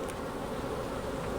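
Honey bees buzzing on a brood frame in a hive, a steady close drone of many wings, continuous and fairly quiet, with no talk.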